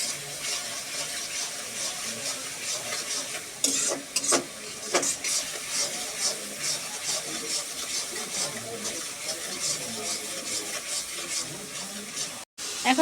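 Spices being stirred in a cooking pot for a potato and meat curry: continuous scraping and sizzling under a steady background hiss, with a few sharper clatters around the middle.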